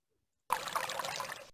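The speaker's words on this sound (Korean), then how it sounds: "그렇죠. 소리가 나죠, 물소리가." A recording of running tap water played back, a short rushing splash of about one second that starts abruptly and stops, heard alone and fairly close.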